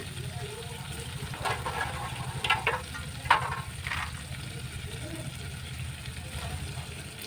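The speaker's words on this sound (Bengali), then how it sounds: "আমি এর মধ্যে দিয়ে দিচ্ছি সেই কাঁচা ছোলা সিদ্ধ করে রেখেছিলাম, সেটা দিয়ে দেবো" Boiled raw chickpeas tip into a pan of spice paste that has released its oil, giving a low sizzle with a few splashing, clattering bursts as they land, then a steady quiet frying hiss.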